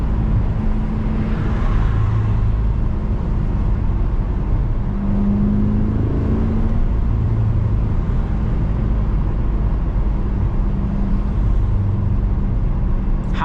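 A 2023 Corvette C8 drives along, its engine a steady low drone with gentle swells as it accelerates, heard from inside the car and without talk.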